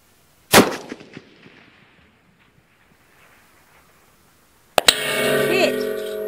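A 300 Win Mag rifle fires one sharp, loud shot at a target 2,285 yards away outdoors. The report decays into a quiet stretch, and a second loud burst of noise follows near the end.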